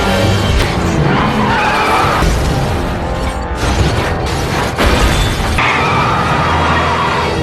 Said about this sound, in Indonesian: tumpahan oli juga membuat mobil musuh kehilangan kendali dan terbalik